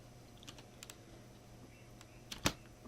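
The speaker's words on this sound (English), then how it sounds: "you want to start off by typing transfer" A few scattered keystrokes tap on a computer keyboard in a quiet room, ending with a sharper, louder click.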